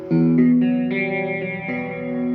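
Guitar notes picked one after another in a steady fingerpicked pattern, clear and close, with a wet, effected tone and no voices.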